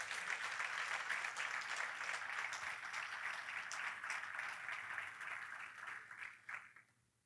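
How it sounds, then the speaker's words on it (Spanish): A church congregation applauds a group of young musicians, a dense steady patter of many hands clapping at once that holds fairly loud and then tapers off and fades out near the end. "Se merecen un aplauso estos muchachos."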